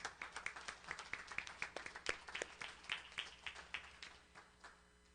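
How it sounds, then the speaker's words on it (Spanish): A small church congregation claps in a fairly regular rhythm, the individual handclaps distinct and moderately close, the clapping quieter and thinner than a full ovation and tapering off near the end. "Demos otro aplauso, mis hermanos."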